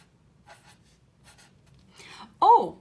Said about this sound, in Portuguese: Eu vou escrever ela aqui em cima.